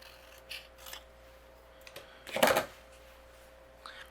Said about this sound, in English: What I'm going to do with the green is just using my scissors.